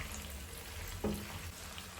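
Onions and chicken thighs frying in a pan over medium heat, a soft continuous sizzle with a brief louder stir or splash in the middle, close and fairly quiet.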